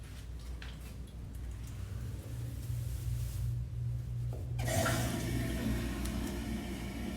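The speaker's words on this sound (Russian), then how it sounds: "Откроем кран." Water runs from a tap beside a toilet, starting with a faint trickle, then gushing louder and steadier from about the midpoint, alone without talk.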